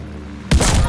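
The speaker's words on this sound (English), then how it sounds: "Teammate called a bombing run." Bombing-run blasts in Call of Duty Vanguard erupt suddenly halfway through, a loud thudding boom that follows a low humming quiet and keeps roaring to the end.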